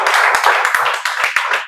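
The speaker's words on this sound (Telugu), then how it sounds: "అంతే, క్లాప్స్" A class at a spoken English institute claps after a student's answer, a quick burst of many hands in a loose, uneven patter, close and fairly loud, dropping into a few separate claps near the end.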